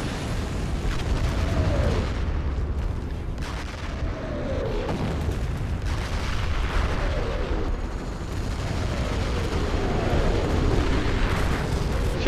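Tank fire and explosions in Company of Heroes as a machine gun nest is destroyed: repeated heavy booms and blasts roll through a continuous battle din, loud and close, with no talk.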